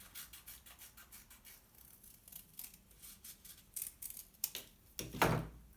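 Scissors snipping through folded paper to make a flower, a series of close, quiet cuts and crisp paper rustles, the last few snips louder and sharper, with no talking.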